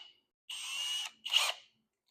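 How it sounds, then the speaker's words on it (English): Two short bursts of a high-pitched power drill whining, with an 1/8-inch bit drilling sheet metal on a 1964 Ford Falcon fender, the first steady and longer, the second shorter and grittier, with silence around them. "And I'm just going to drill 1 hole in this piece of metal for now."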